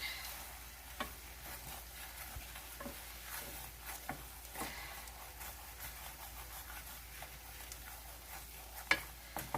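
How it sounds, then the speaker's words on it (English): Hash browns frying in a pan for an eggs-in-a-nest breakfast, with a steady soft sizzle under irregular scraping and clicking strokes of stirring, one sharper knock near the end; no talking. "Stir that around."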